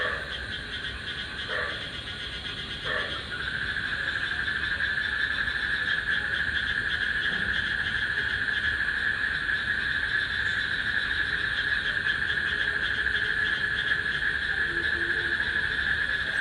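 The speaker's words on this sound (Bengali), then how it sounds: "মেবি যে শব্দটা বেশি কানে আসে ওটা হলো তুরুল্লা বা মাটির নিচে থাকে এটা।" Steady, loud insect drone, thought to be an underground mole cricket (turulla) or termite, buzzing continuously near indoor plants on a wet morning, with a few brief chirps early and a constant high whine throughout.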